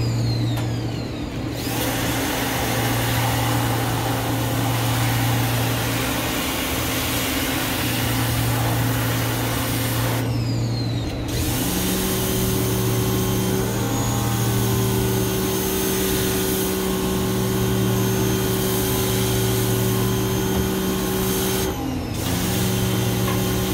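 Pressure washer spraying the fins of an air conditioner unit, a loud steady motor hum with hissing water spray, briefly cutting out and restarting a couple of times.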